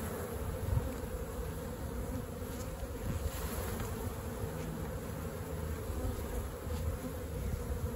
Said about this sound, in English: Get most of the bees off of here.